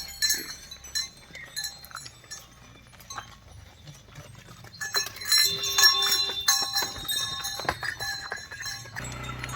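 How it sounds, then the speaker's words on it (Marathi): Desi Gir and Sahiwal cattle, including a bull, head out to graze on a rural village project, with scattered hoof clatter, clinking bells and occasional animal calls, close and fairly quiet, with no talking. "चला गुरं तर चरायला निघाली"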